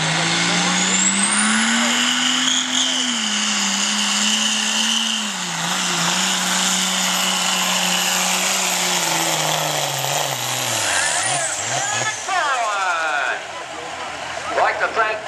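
A diesel pulling truck roars at full throttle during a county fair truck pull in Wayne County, Indiana, its loud sustained engine note rising and dipping steadily for about twelve seconds before easing off, with crowd noise and faint announcer talk beneath.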